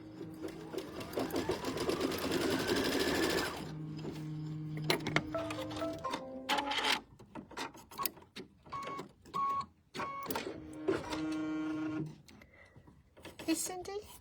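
Sewing machine running a trim stitch on a quilt block: a steady buzzing run of stitching at first, then several shorter bursts broken by pauses and tonal beeps, with a voice talking in between.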